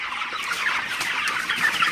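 Broiler chickens on a poultry farm, a close, busy chorus of overlapping clucks and chirps with no pauses and no voices.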